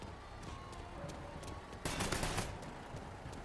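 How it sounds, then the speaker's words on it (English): Gunfire in Mafia 3 crackles fairly quietly in a few scattered shots, then a brief rapid burst, set against a noisy background. "Who's shooting at me?"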